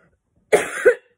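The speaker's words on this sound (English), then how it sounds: "I still have that cough that doesn't want to go away." A woman with a lingering cough lets out a single short cough made of two quick bursts, close and clear against silence.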